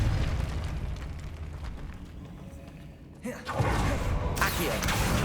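Depulso spell cast in the video game Hogwarts Legacy, a rumbling burst that swells and then breaks into a louder explosive blast with crackling debris about halfway through, alongside game ambience.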